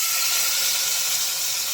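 Steam hisses loudly and steadily from an Instant Pot, a close, constant airy rush without breaks or voices.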